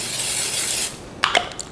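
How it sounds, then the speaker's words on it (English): Cooking spray hisses from a can into a cold stovetop pot for marinara sauce, a steady broadband spray lasting under a second, followed by a few light clinks and rustles. "spraying it with cooking spray"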